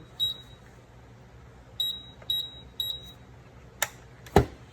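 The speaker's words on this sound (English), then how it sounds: "That beeping is working me over, so I'm gonna turn it off." Four short, high electronic beeps from a 300dpi thermal printer sound at uneven intervals over a quiet hum, followed by two sharp clicks or taps nearby.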